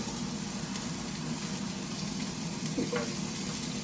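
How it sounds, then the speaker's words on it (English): Onions frying in a pan for lomo saltado, giving a steady, moderately quiet sizzle that continues evenly throughout with no voices. "it smells really good when the onions start to cook"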